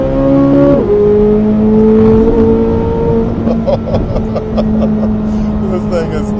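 A Chevrolet Corvette C8 Z06 or E-Ray accelerates hard, its engine note climbing steadily and loud and close, then settling into a sustained drone with crackling pops, while people talk over it.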